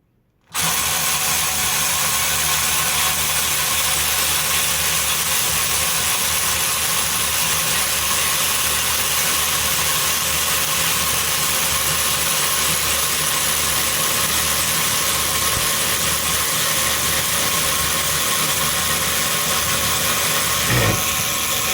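Parkside PARP 20-Li A1 and Ryobi PRW1838X cordless ratchets running on fully charged 2 Ah batteries, a loud continuous motor whine with a buzzing drive that holds steady and close for about twenty seconds, no talking.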